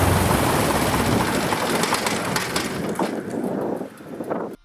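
A small airplane engine idling after reassembly, a loud dense rumbling drone that holds steady before dropping off near the end, with no talk over it.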